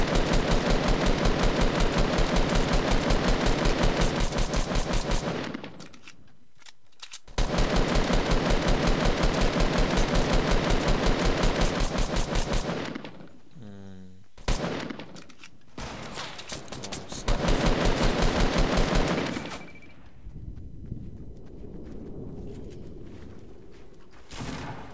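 Rapid automatic gunfire in Fortnite Battle Royale solo mode, loud sustained bursts of several seconds separated by brief pauses, with quieter stretches and a faint shot near the middle.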